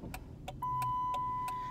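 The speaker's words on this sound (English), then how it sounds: "the car is beeping like that." A car's warning chime beeps in a steady repeating pattern, several short tones followed by a sustained electronic tone, fairly quiet and close, with no talking over it.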